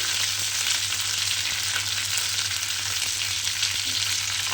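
Tarka frying in a pan, a continuous close sizzle with occasional soft stirring sounds, steady in level throughout with no voice.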